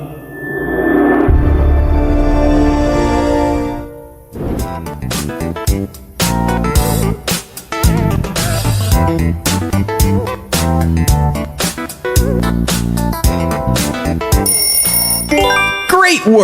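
PlayStation audio logo: a low, hazy swelling drone opens, then a loud, bright run of ringing bell-like chimes and layered chords plays on steadily, ending in a glittering high flourish.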